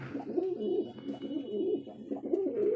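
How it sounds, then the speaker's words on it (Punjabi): Large pigeons in a loft coo close by, giving a run of repeated low, throaty rolling calls that overlap one another with hardly a pause. "ਇਹ ਆਪਣੇ ਵੱਡੇ ਕਬੂਤਰ ਹੈ ਮਿੱਤਰੋ ਕਰ ਲੋ ਚੈੱਕ ਕੱਲਾ ਕੱਲਾ ਕਬੂਤਰ"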